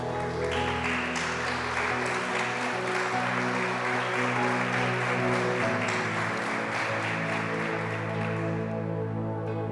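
A large church congregation claps continuously, a dense steady roar of applause over a faint sustained musical tone, fading slightly at the end.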